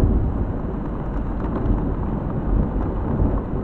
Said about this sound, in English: that thunder shook the ground